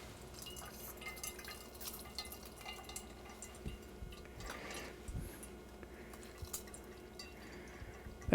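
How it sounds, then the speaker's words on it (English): Faint liquid drips and squishing as cooked spinach is pressed through a small screen to squeeze out its water, with scattered wet taps and soft shuffling. "You can see the liquid coming out."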